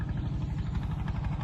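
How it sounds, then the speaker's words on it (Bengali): A trawler boat's engine chugs steadily as it passes along the middle of a river on a sunny winter day, a continuous low throbbing drone heard from a moderate distance, with no talk. "ওই যে ট্রলারটা নদীর মাঝখান থেকে যাইতেছে।"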